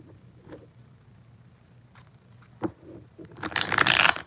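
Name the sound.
shuffling tarot cards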